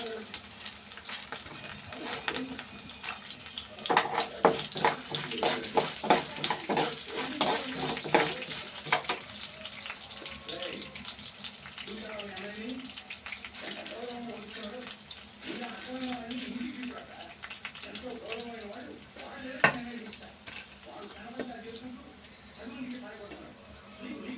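Urad dal and chana dal fry in a pan with a steady, crackling sizzle, with clattering stirring early on. A voice talks over the frying for much of the time.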